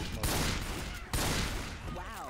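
Video game gunfire aimed at a tank rattles out in two loud close bursts of rapid shots, the second following about a second after the first, with a brief voice at the end.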